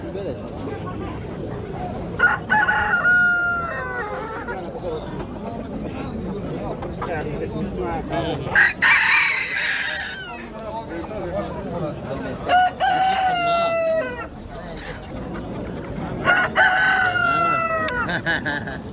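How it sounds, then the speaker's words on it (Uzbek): Chinese-breed roosters crow repeatedly at a Namangan market, several long calls near and farther off, with clucking and people talking throughout. "Ham chaynani xo'rozi"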